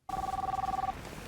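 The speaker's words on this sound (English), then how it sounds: "who's ringing her phone?" A telephone rings with one short burst of rapid warbling electronic trill that lasts under a second, close and clear, then stops.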